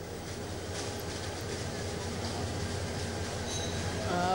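An intercity train at a busy Dhaka railway station, rolling rumble and rail noise filling the space steadily, with a brief squeal near the end and faint background activity.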